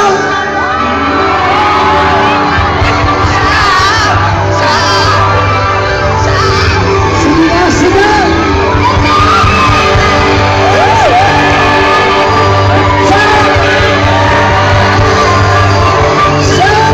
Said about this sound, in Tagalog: Come on, shout!